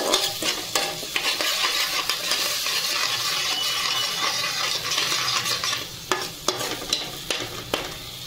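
A spatula stirs pomfret fish curry in a frying pan, with repeated scraping strokes over a steady sizzle that pause briefly near the end.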